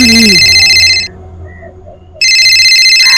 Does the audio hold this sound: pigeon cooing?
no